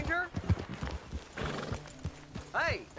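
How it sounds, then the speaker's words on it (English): Horse hooves clip-clop in a PlayStation 4 video game, joined by a neighing whinny near the end, with someone talking over the steady hoofbeats. "that's a nice-looking horse you have there"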